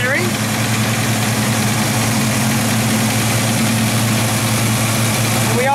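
A 1968 Ford Mustang coupe engine idles steadily up close with a constant low hum and faint alternator whir, an even mechanical drone that never changes pace.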